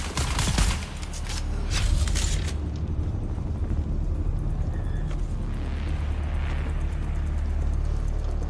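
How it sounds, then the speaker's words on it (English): Dune: Awakening combat gunfire rattles in a fast volley over the first couple of seconds, then gives way to a low, steady rumble of battle ambience that continues to the end. "Someone's firing."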